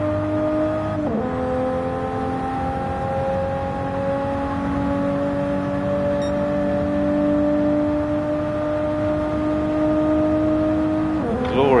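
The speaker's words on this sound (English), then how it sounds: "Glorious sound coming from that screaming 6-cylinder engine there." A screaming six-cylinder race car engine in a Gr-4 racing video game holds a high, steady whine through the run, with a brief shift dip near the start and another at the end.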